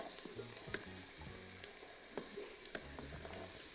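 Peppers and seasoning stirred in a pressure cooker pot for shrimp paella, a quiet low sizzle with scattered clicks and scrapes of the spoon, fairly faint and without speech.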